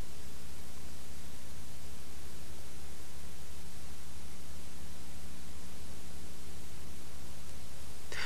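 An oxy-acetylene torch cuts through metal with a constant, loud roaring hiss that holds unchanged throughout.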